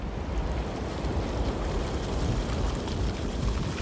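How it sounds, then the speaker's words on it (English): Waves surge and crash against the rocky shore of a volcanic island off Brazil, a steady loud roar of surf and rushing water with wind buffeting, no voices. "Every day, the crabs brave the crashing waves to feed."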